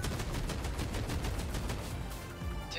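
Rapid bursts of mech gunfire from the video game 13 Sentinels Aegis Rim, a steady, loud rattling stream of shots that thins out near the end.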